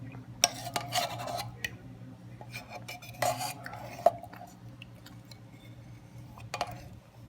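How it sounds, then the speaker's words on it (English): A spoon scrapes condensed milk out of its container while making buko pandan, giving quiet, irregular rasping scrapes and light metallic clicks, close up, with no talking. "Make sure to get all of it out with a spoon. Get as much as you can out."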